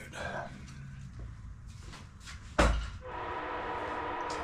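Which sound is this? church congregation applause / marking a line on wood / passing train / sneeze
passing train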